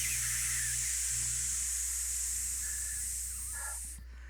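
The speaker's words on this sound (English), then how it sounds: "I'm going to go ahead and call the cleaning crew in to spray this fucker down" A steady spray hiss, added as a sound effect during a podcast, runs loud and continuous for several seconds and then tapers off at the end.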